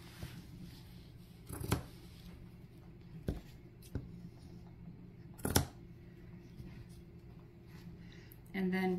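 Scissors cut excess fabric off a quilted bias strip on an activity blanket, making a few quiet, separate snips spaced a second or two apart over a faint room hum, while a person speaks.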